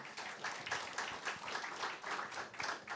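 An audience applauding racecourse managers from Navan and Fairyhouse at a Meath National Hunt season launch, a dense, steady patter of many hands clapping, rather faint and without voices.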